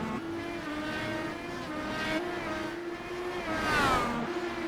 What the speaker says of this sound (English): now Larkamp is through the Wall of Champion, just going across the start-finish line